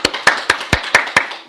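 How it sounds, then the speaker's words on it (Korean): Sparse applause from a small church congregation: about seven distinct, evenly spaced claps sound close and crisp in a slow, thin rhythm. "우리 박수 한번 주시죠"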